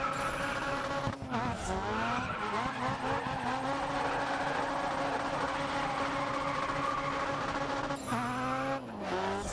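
A race car in GRID Autosport roars at high revs with a loud steady engine drone, broken by braking and shifting dips near the start and end, while a person talks briefly.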